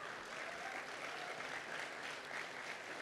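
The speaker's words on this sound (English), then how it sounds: "Let's give them a round of applause." An audience at a pitch competition finale applauds the coaches, with continuous dense clapping from a large crowd that holds steady and fills the room for the whole stretch.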